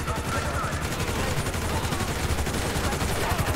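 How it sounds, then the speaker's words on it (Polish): Rapid gunfire crackles in a GTA V firefight, dense bursts of shots over game ambience with a continuous rattling rhythm, fairly loud throughout. "Znowu w nas ktoś strzela."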